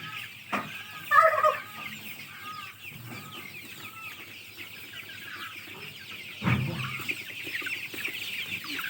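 Chickens on a poultry farm cluck and call in short, scattered bursts at moderate distance, with quieter stretches and some background shuffling between calls.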